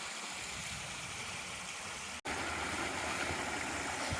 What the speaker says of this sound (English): Here's our next crossing of this mountain stream.